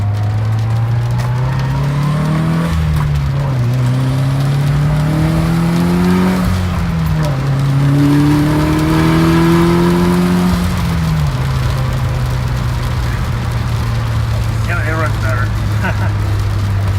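A Mitsubishi Evo 9 race car with a modified exhaust revs up through several gears, rising and dropping in pitch with a loud, raspy exhaust drone close by.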